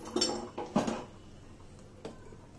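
Cooked basmati rice is mixed with lemon juice in a pot, a few soft clinks and scrapes of a spoon against the vessel spread over a couple of seconds, quiet and close.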